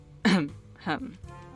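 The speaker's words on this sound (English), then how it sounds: "Victor tried to cough it off." Two gruff throat-clearing coughs, close and fairly loud, one after the other with a short pause between them.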